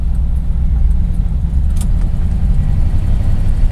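A 1955 Mercury Monterey's 292 V8 engine with a rebuilt teapot 4-barrel carburetor rumbles steadily and loudly up close, a deep low drone that holds even throughout with no voices.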